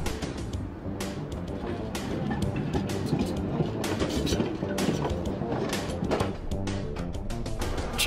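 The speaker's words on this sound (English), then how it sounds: "See how the tram goes round the corner." Dense, busy rumble with clattering from a tram rounding a corner in a children's cartoon, mixed with music-like layered tones for the whole stretch, loud and steady.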